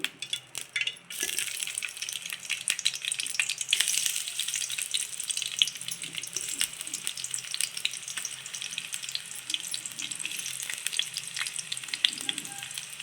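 Chopped onions sizzle and crackle in a little hot oil in a pan for semiya upma. A sharp clatter comes as they go in, then a steady close frying hiss with occasional stirring.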